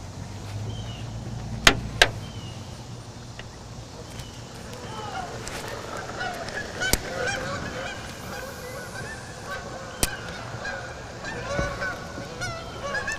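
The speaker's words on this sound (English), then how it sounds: "Come the geese." Geese honk repeatedly in the distance, their calls growing busier midway, with people talking nearby and a few sharp knocks.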